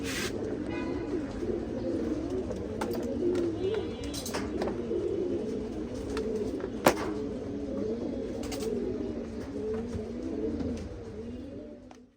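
Pigeons coo steadily in a low, rolling chorus, with a few faint chirps and a brief knock partway through.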